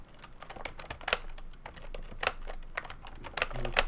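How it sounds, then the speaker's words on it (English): Typing on a computer keyboard during a livestream, quick irregular bursts of clicking keys with short pauses, close and fairly crisp, no talking. "I hear somebody typing."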